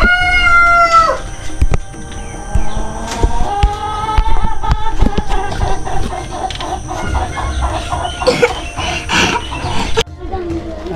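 Chickens and a rooster in a backyard: a loud, close crow opens the stretch, followed by steady clucking and squawks, with sharper calls bursting out near the end.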